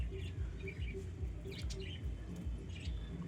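Small pigeon chirps and tweets come in short repeated bursts over a low rumbling background, moderately close but faint.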